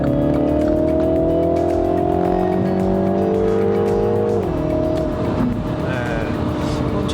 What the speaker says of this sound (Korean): 일단 제가 한번 급가속을 한번 해볼게요.